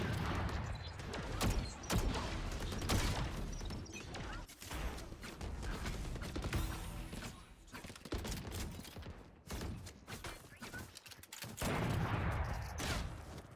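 Gunfire in Valorant crackles in repeated bursts throughout, dense and fairly muffled, with faint game noise between volleys.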